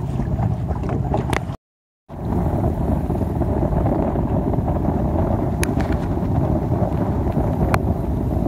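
Wind on a sailboat out on the water: steady, loud buffeting rush across the microphone with a brief cutout, the gusty roar continuing without talk.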